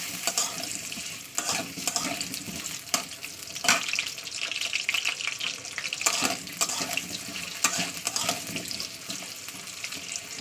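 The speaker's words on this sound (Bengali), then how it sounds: "আমি তেলের উপরে ভালো করে ভাজা ভাজা করে নিতে হবে" Close, steady sizzle of potatoes frying in hot mustard oil, with intermittent scraping and stirring sounds breaking through the crackle.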